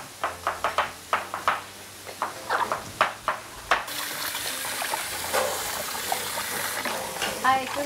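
Garlic sofrito sizzles in a pan after a run of sharp knocks and stirring clatter, then settles into a steady, close frying hiss with a voice speaking nearby.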